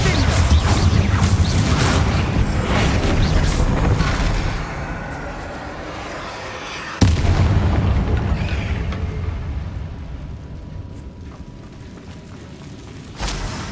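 Bombarda blasting spells detonate in the Hogwarts Legacy video game: heavy booming explosions with crashing debris that decay into a rumble, and a second sharp blast midway that fades slowly.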